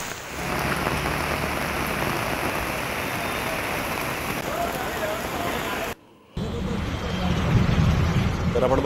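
Heavy monsoon rain pouring in Navi Mumbai, a loud, dense, continuous hiss of downpour on surfaces with a brief cut near the end, voices faintly present under the roar.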